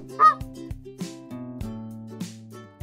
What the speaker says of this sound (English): Flamingo.